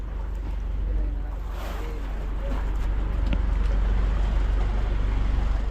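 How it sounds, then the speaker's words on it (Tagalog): A tuna fishing boat's motor, fitted with a new propeller, drones low and steady as the hull runs over water, with wind buffeting the microphone and faint splashing throughout. "Ganda ng takbo ng bangka natin ngayon."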